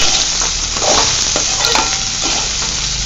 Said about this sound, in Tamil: இப்போ வாழைக்காய் பொரியல் ஃப்ரை ஆகிட்டுருக்கு.